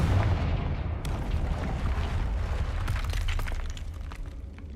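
The Confringo spell in Hogwarts Legacy lands as a loud, dense explosive blast that starts at once, then breaks into crackling, shattering debris that slowly fades.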